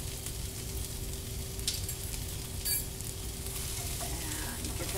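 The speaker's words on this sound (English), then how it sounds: "And give that a stir." Green beans sizzling in a pan with salt, a steady crackling fry with occasional scraping and stirring noises.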